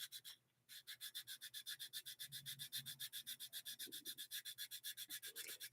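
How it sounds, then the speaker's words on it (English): Steady back-and-forth hand sanding of dried filler, a long run of rhythmic abrasive strokes, close and loud, with no talk. "We're actually sanding back all of the stuff that I filled in yesterday."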